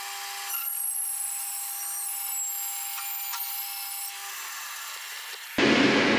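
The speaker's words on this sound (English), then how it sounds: "This saw is awesome. I'm just going to crank it up, and we're going to get this guy through there" Power saw cutting wood for a handmade chess board. A high, steady whine runs for several seconds, fades as the blade winds down, and ends in a sudden loud burst of broadband noise.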